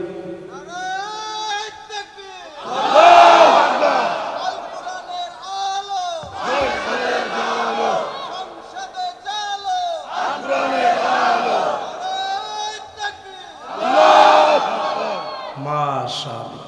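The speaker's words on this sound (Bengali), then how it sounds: "এখন স্লোগান ওঠা দরকার, আল কোরআনের আলো।" A large crowd at an outdoor Bangla religious sermon gathering chants a slogan in loud unison, several surging call-and-response bursts with voices rising and falling together.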